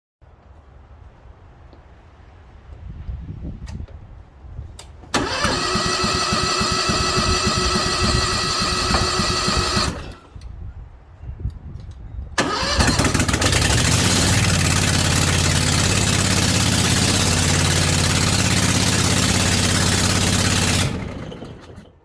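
An International Harvester 4130 skid steer engine without mufflers cranks briefly, then fires up and settles into a very loud, raw idle, with a short pause and another long burst of harsh, roaring engine noise up close.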